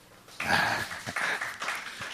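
Brief burst of audience applause from students gathered at a campus evangelism school event, several irregular waves of clapping over about two seconds, moderately loud.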